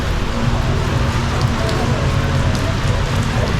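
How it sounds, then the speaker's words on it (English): Steady rain pours onto a Hanoi street, a dense, even hiss of drops spattering hard surfaces, close and loud throughout with a low rumble of traffic underneath. "So it's finally started raining."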